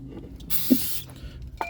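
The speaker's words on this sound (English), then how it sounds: "use our favorite tool in the world, brake clean, and we'll soak that thing just like Power Stroke Tech Talk with A-Rod" A short burst of aerosol brake cleaner spray hisses for about half a second, followed by faint clicks and handling noises nearby.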